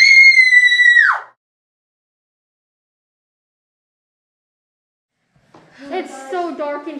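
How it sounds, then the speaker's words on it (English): A person lets out one loud, high-pitched scream lasting about a second, followed by several seconds of silence before a voice speaks in a Halloween special setting. "Ever feel like you need to just scream?"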